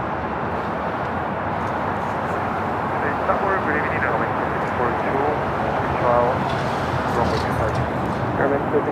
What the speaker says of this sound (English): United at 757 up next for takeoff.